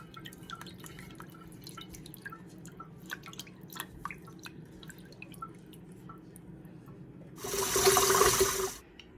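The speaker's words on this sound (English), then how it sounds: "I'm gonna wash my rice nicely," Rice being washed in water to rinse out the starch: scattered small drips and splashes over a quiet background, then a brief louder rush of pouring water near the end.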